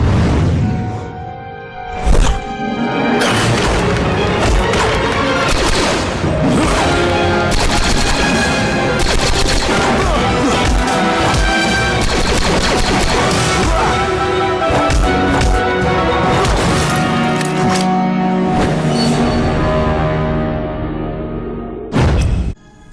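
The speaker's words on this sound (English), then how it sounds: "Finn's video was great, just shooting and fighting every First Order Stormtrooper in sight" Rapid blaster fire and combat from Disney Infinity 3.0, Finn fighting First Order Stormtroopers in a Star Wars Toy Box level, with dense loud continuous shooting and impacts over game music, briefly dropping out near the end.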